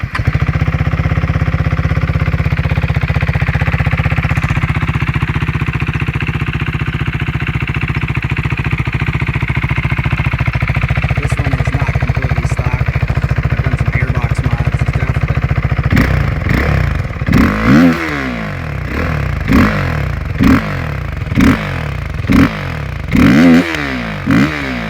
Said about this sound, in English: It's just a fun little revvy engine.